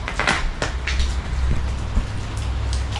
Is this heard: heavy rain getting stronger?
yes